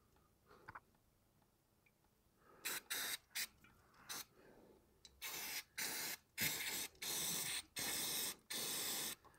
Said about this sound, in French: On en profite pour remettre un petit coup de nettoyant fin pour enlever tous ces résidus.